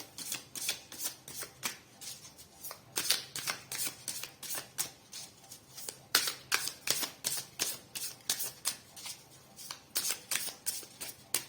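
A tarot deck being shuffled up close gives a rapid run of crisp, papery riffles and flicks in an uneven rhythm for several seconds, with no talking.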